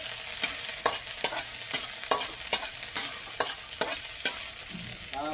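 Garlic and onion sauté in a hot pan under a constant sizzle, punctuated by regular scraping strokes of a spatula about every half second, close and clear with no voices.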